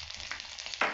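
Chopped ginger dropped into hot oil fries with a soft, steady sizzle, and a brighter crackling burst comes near the end.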